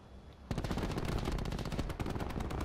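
Rapid gunfire from Call of Duty Black Ops 4 erupts after a brief quiet moment, then keeps going as dense, loud, continuous bursts for the rest of the clip.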